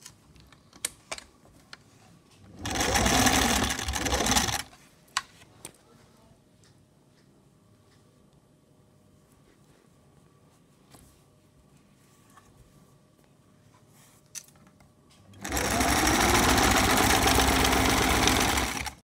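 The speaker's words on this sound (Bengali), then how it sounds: "সেলাই মারব।" A sewing machine stitches a long kameez in two sustained bursts, one short and one longer near the end, separated by a quiet stretch with faint handling clicks.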